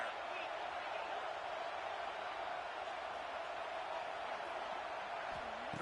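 Stadium crowd in an NCAA college football video game, a broad, steady roar of thousands of fans cheering to pin the offense deep, continuous and loud, with no foreground talk.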